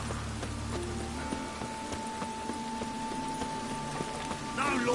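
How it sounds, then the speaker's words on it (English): Rain falling in The Witcher 3, a steady even patter over the whole stretch, with faint game sounds and a brief voice beneath it. "Rain again."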